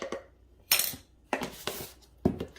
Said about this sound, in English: We're going to give this a nice mix.